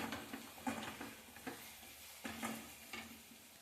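A mixture heats in a pan over a high flame, giving a soft steady sizzle broken by several scraping stirs and light clinks of a spoon against the pan.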